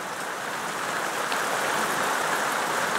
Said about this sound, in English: enjoy the rain pitter-pattering on the roof